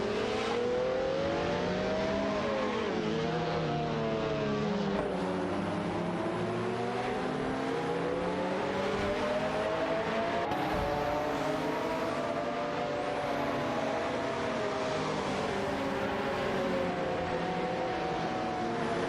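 Several race cars, a McLaren F1 among them, roar continuously through a racing video game, engines rising and falling in pitch as they accelerate and shift, loud and close for the whole stretch with no talking.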